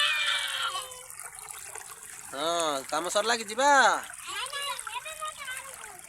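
Water splashes and runs as sandals are washed, while children's voices talk loudly over the splashing nearby.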